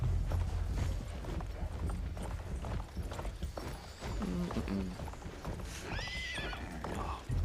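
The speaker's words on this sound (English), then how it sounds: "we're just gonna take the horse and go on our merry way all the way back to town" Horse hooves clop in a steady rhythm under a busy Battlefield 1 game soundscape, with a horse neighing partway through.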